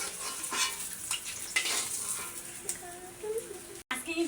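Koi fish frying in oil in a pan for a home-style curry, a soft continuous sizzle with scraping stirs and light utensil clatter, a voice talking faintly over it.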